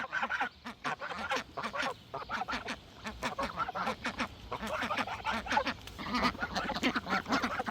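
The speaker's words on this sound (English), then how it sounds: "She's starting to make quacking sounds" A group of ducks quacks busily and continuously, overlapping calls close by, with some honking notes mixed in.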